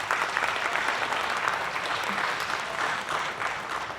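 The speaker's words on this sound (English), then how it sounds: "If we can give them a round of applause for what they've done" An audience at the Hmong Oshkosh Festival gives a sustained round of applause, a thick, continuous patter of many hands that stays fairly even throughout without speech.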